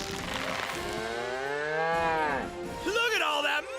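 A cow moos loud and close in a long, bending low call, then a shorter second bellow, heard alone in a radio advertisement.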